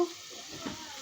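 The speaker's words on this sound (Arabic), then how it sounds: "بقلي البصله، حطيت زيت كتير وبصل كتير" A generous amount of chopped onion fries in plenty of oil for Egyptian mahshi, a soft steady sizzle with a brief stir partway through, heard close and on its own.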